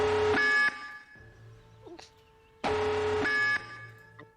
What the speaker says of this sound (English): Yeah, flatline.